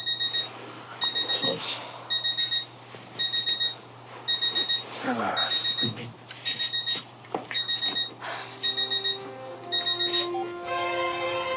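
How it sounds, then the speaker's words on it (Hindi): Alarm clock ringing in a bedroom, loud repeated bursts of rapid electronic beeping in a steady on-off rhythm, with faint movement noises under it and a different tone entering near the end. "अरे उठिए ना, अलार्म बज रहा है।"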